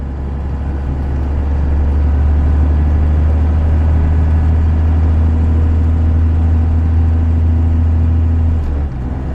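A first-generation Cummins diesel truck pulls through snow, its loud, steady low-pitched engine drone holding nearly constant throughout with a slight rise under load before easing at the very end.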